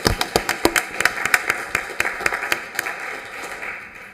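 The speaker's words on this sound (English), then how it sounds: "Give her a round of applause." Council meeting audience applauding a departing staff member, sharp distinct hand claps at a steady brisk rhythm, loud at first and gradually thinning and fading toward the end.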